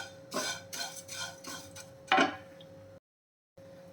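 Flattened rice (poha) being dry-roasted and stirred in a pan, a handful of close rustling scrapes and a sharp clink of the spoon against metal, then a brief silence before a faint hum resumes.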